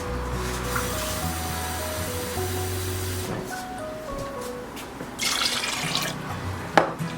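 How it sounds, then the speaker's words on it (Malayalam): Water pours from a cup into a cooking pot while beef varutharacha curry is being made, a steady splashing stream lasting several seconds over a tonal background, with a second brighter splash near the end. "3 കപ്പ് വെള്ളം ഒഴിക്കാം."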